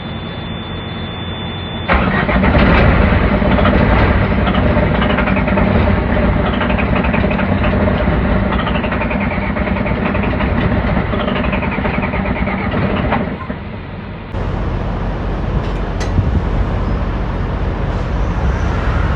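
Truck engine coming to life after a long struggle to start, then a steady loud idle rumble running throughout, with a brief dip near the end before the engine noise resumes.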